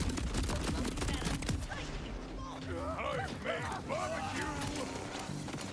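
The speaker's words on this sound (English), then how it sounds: "Who's shooting me?" Rapid gunfire in the video game Borderlands 4 sounds as a continuous stream of overlapping shots and mechanical clatter, loud and dense throughout, with a voice talking over the top.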